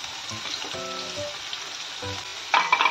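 Curry leaves, green chili and finely chopped onion hit hot oil for an ukal pendi wheat-flour dish, giving a close sizzle with soft bubbling; a brief louder crackling burst comes near the end.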